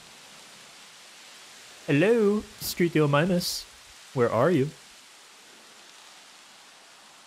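Steady, even hiss of rain falls throughout a Jurassic World Evolution game scene, continuing under a voice that speaks in short bursts and carrying on alone between them.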